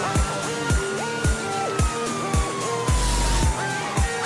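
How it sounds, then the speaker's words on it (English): Police car sirens wail in the video game GTA 5, a loud, repeating rising-and-falling tone with rhythmic low thuds underneath and a long sweeping tone overhead, close and continuous without talk. "Sirens, please."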